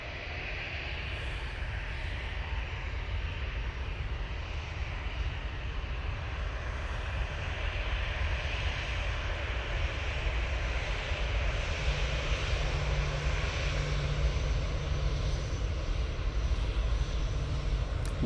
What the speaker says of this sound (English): EK22 returning back to Dubai using the mighty Emirates A380